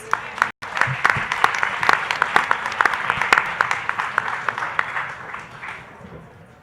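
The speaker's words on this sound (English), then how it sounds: "Let's give them a round of applause." An audience at a Denver Startup Week final pitch competition claps for the last competing startup, a sharp, crackling round of many hands that builds quickly, holds strong, then thins and fades toward the end.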